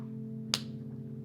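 One crisp, short clap ringing out over a sustained low musical drone, otherwise quiet.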